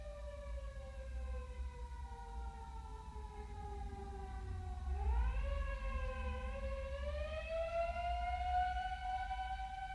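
A fire engine siren wails as it passes, its tone sliding down then rising again as it swells louder, with low traffic rumble beneath.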